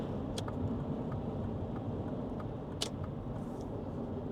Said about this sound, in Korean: 악셀을 밟아 갖고 나가는 느낌은 살짝 한 200마력 정도 되는 느낌입니다